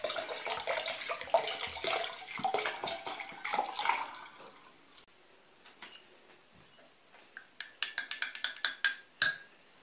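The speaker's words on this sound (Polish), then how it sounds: "Teraz do dzbanka wlewam 250 ml wody. Do tej wody dolewam spirytus 500 ml." Water and then spirit poured into a jug, a steady splashing pour for the first few seconds, followed by quieter trickles and a series of sharp clinks and taps of glass near the end.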